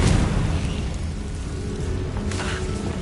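A Confringo fire spell goes off in Hogwarts Legacy, a muffled burst at the start trailing into low rumbling noise, with a second fainter flare near the end.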